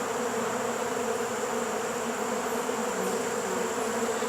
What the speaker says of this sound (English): I really wasn't expecting so many foragers to go rushing out of the hive